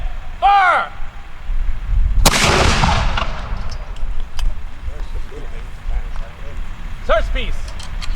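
A historic cannon fires during an Independence Day cannon and musket drill in Huntington: one sharp, loud boom a couple of seconds in, rolling out into a decaying rumble, with shouted commands before and after.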